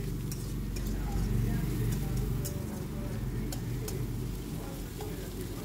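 Onion sizzling steadily in a pan with a little mustard oil left from frying prawns, a dense continuous crackle with occasional clinks of stirring.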